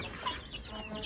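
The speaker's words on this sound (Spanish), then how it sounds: "Despídense de los pollos de raza ponedora." Laying-breed chickens cluck softly in a brief, faint murmur of overlapping calls against a steady background hum, with no talking.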